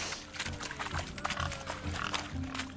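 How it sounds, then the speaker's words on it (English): Pigs squeal and grunt while being chased during a swineherd race in The Witcher 3, a steady busy mix of animal squeals over a continuous game background, with no talk. "Blustering about after pigs, are you?"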